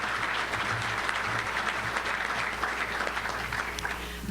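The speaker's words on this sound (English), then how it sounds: "let's give her a round of applause" A luncheon crowd at a Little Rock touchdown club event applauds a Cabot High School honoree, a dense, steady wash of many hands clapping at moderate volume, continuing without pause.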